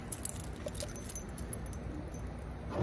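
Car keys jangling and rattling steadily up close while a car is unlocked outdoors, a continuous bright metallic clinking that ends with a louder knock.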